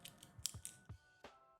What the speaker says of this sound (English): slider fidget spinner